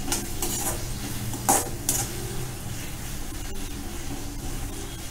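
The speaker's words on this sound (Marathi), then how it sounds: "कांद्याचा थोडा कलर चेंज होईपर्यंत परतून घेणार आहे" Onion sautéing in a pan for oats Manchurian, with a soft sizzle under repeated spoon stirs and scrapes against the metal and a few sharper clinks near the start.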